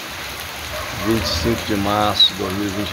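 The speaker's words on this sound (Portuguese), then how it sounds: "Tardezinha com chuva, precisamente às 4h30 da tarde." Afternoon rain in João Pessoa, Paraíba, a steady soft hiss of falling rain heard throughout, with someone speaking over it in the foreground.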